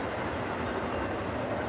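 A train passing nearby, heard as a steady low rumble and rolling wash of noise held throughout, with no talk over it.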